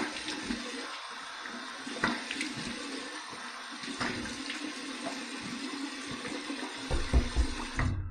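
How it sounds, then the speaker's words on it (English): A cold water rinse from a bathroom tap during a shave: water runs steadily and splashes for several seconds, with scattered knocks and splashes of hands or a razor under the stream. "All right, here's my cold water rinse."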